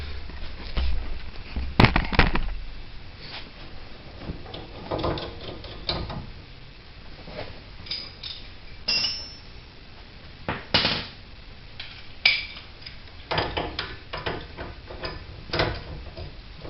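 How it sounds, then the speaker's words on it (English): Many light, uneven hammer taps and knocks on the aluminum spindle of a 2003 Ford Taurus during CV axle replacement, scattered through the stretch, some louder clicks among soft background noise. "you can tap on the spindle, the aluminum side here, with the hammer"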